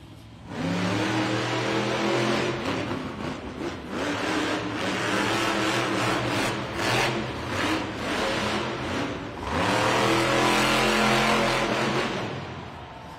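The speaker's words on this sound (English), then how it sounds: "Coming up next from Oak Harbor, Washington, Carson Williams, Monster Mutt Rottweiler" Monster Mutt Rottweiler monster truck engine revving loudly at a Monster Jam arena event in Oakland, with sustained roaring revs that rise and dip, a brief lull, then another strong surge, heard alone without talk.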